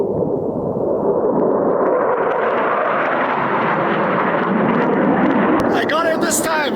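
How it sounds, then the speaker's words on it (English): A fighter jet roars low overhead along a desert stretch of the Pacific Crest Trail, a loud broad rushing blast that swells and sweeps in pitch, with excited voices breaking in at the end. "I just had a fighter jet passing us here. Super low."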